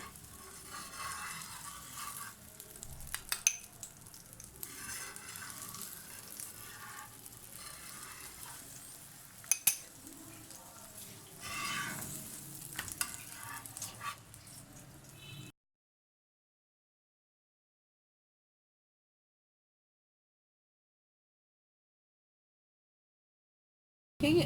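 A paratha cooks in desi ghee on a tawa, giving a soft, low sizzle with a few brief clicks and scrapes, then falling silent for the second half.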